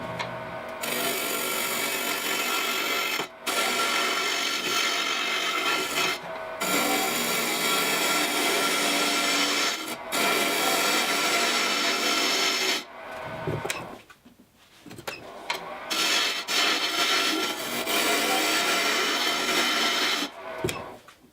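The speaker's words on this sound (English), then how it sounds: "So I'm going to have to turn this down." A wooden peppermill body is turned down on a lathe, a steady close scraping and shaving hiss from the cutting tool with several brief pauses where the tool lifts off the spinning wood.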